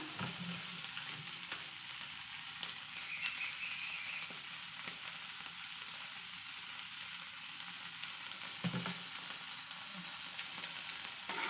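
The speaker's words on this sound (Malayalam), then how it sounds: "മണ്ണിൻ്റെ ചട്ടി ചൂടായിട്ടുണ്ട് ഇനി നമുക്ക് കുറച്ച് വെളിച്ചെണ്ണ ഒഴിച്ചു കൊടുക്കാം" Gentle, continuous sizzle of coconut oil in a hot clay pot, steady and fairly quiet, with a few faint clicks and no talking.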